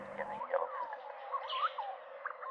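Yellow-footed green pigeon calling with soft, fluting whistled phrases, a run of melodic warbles close by, preceded by a brief low rumble.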